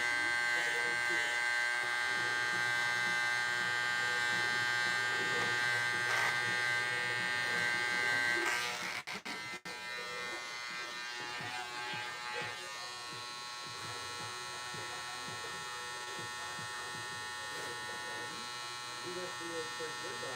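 A barber's electric hair clipper buzzes steadily at close range as it cuts a customer's hair, humming without pause under ongoing conversation.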